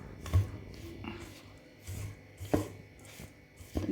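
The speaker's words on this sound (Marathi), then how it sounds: "आता हे सगळं मिक्स करून घेतो आपण." Sesame laddu ingredients, sesame seeds with jaggery, being mixed together by hand in a bowl, giving soft, quiet rubbing and grainy shuffling strokes that come in irregular bursts with brief pauses and no talking.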